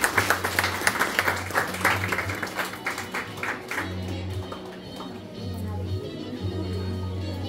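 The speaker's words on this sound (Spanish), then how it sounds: "Fuerte el aplauso, por favor." Audience applause at a ceremony as a godmother is introduced, a burst of clapping that starts loud and rhythmic, then thins into softer scattered claps under a low steady hum.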